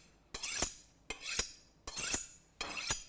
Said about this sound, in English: I just run my knife across this a couple times.